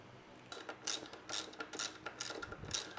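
Ratchet wrench working 12mm bolts off the footrest bracket of a Royal Enfield Interceptor 650, a close series of quick clicking bursts in an uneven rhythm, faint and alone.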